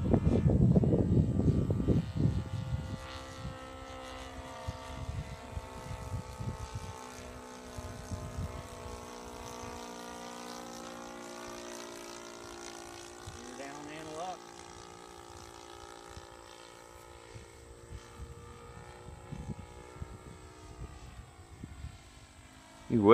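A Top Flight P-47 RC model airplane drones overhead at a distance, its engine tone rising and falling as it passes, with people talking over it through much of the pass.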